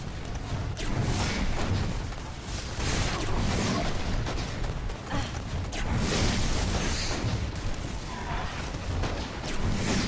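Grenade blasts and gunfire in the sci-fi shooter Destiny 1, a continuous loud barrage of booms and crashes with dense mechanical clatter throughout, no clear gaps between hits.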